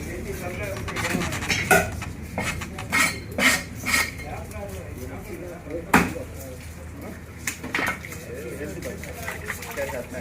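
Katla fish being chopped into round pieces with a cleaver, sharp knocks of blade on board coming in an irregular rhythm, with clinking metal and a market hubbub behind, while voices talk throughout.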